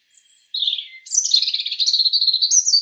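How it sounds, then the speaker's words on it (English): Robin singing a sweet, slightly wistful song, a clear, close sequence of warbled phrases after a short pause, with no background noise. "when robins aren't swearing at me, they sing a sweet but slightly wistful song"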